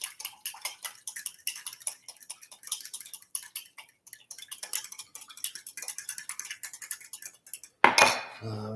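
Lasagna ingredients being stirred in a pot, a rapid run of metallic spoon scrapes and clinks against the pot's sides, ending in a louder clatter, with no voices.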